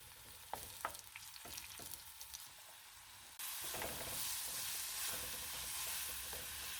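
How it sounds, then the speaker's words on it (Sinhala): Sliced onion, curry leaves and garlic fry in coconut oil with a steady, close sizzle, interrupted by a few stirring scrapes, then a louder, denser crackle as the pan heats up. "පොල් තෙල් දාලා ඒකට කපාගත්ත ලුණුයි ලුණු කරපිංච සුදු ලුණු ඔක්කොම ටික හොඳට තෙලෙන් බැදෙන්න අරින්න ඕනේ."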